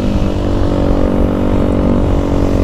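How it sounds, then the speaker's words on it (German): A supermoto motorcycle engine pulling a wheelie, a steady loud drone with a low rumble and a fixed tone that holds evenly throughout, with no talk. "Also Davids Bike lässt sich so entspannt wheelen"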